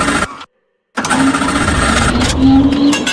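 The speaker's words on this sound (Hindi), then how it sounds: "ये ऑटो स्टार्ट है" An auto rickshaw's small engine bursts loudly to life after a brief silence, then settles into a steady, buzzing idle, close by.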